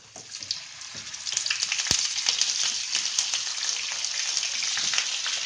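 Soya chaap frying in hot oil in a pan on a gas stove gives a steady, dense sizzle with crackling pops that stays loud and even throughout, with no voices.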